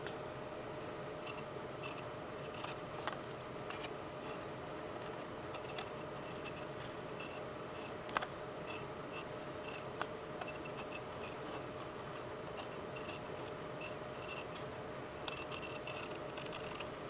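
Scissors trim the edges of a recycled CD for a junk journal, making faint, repeated snipping and scraping clicks in irregular bursts over a quiet background hiss.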